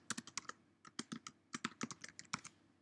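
Quick, uneven clatter of fingers typing on a computer keyboard, keystrokes coming in short bursts with brief pauses, close and fairly quiet.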